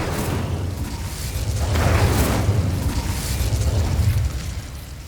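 Fire spell cast in Hogwarts Legacy on PS5, a loud roaring burst of flame swelling into a heavy whoosh midway and then rumbling on steadily.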